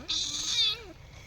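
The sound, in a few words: cat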